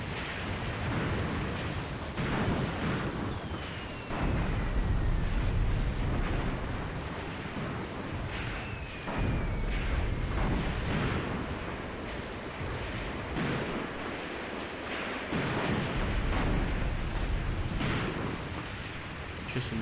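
Soviet WW2 artillery shelling in a war video game, a steady rumbling barrage of distant and near explosions with repeated heavy booms over a dense, continuous roar.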